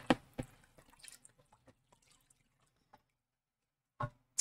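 Water splashes and drips while rinsing etching cream off glass bakeware, with sparse trickles and droplets at close range, a pause, then a couple of sharper splashes.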